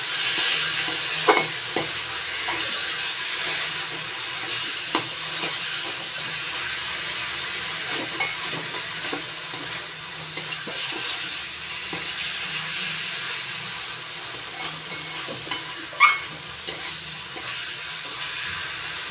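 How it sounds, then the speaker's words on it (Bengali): Banana flower curry is stir-fried with salt in a pan, a soft steady sizzle broken by intermittent scraping and stirring knocks, moderately quiet throughout with no talking. "লবণ দিয়ে ভালো করে কষিয়ে নিচ্ছি।"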